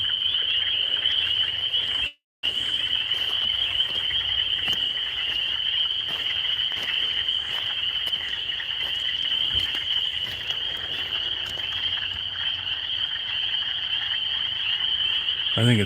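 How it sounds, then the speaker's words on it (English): A loud, steady chorus of small frogs croaking outdoors fills the whole stretch with a dense high trill, broken once by a brief dropout, with faint scattered sounds underneath. "Yeah, definitely frogs."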